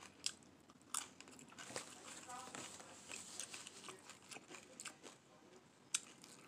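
Tacos being eaten up close, with crisp bites and crunchy chewing in irregular bursts alongside talking voices.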